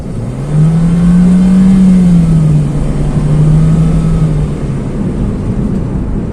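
A Honda Jazz CVT car engine accelerates, a close, loud drone rising smoothly in pitch, then dipping and holding steady as the revs ease, over continuous road and cabin rumble.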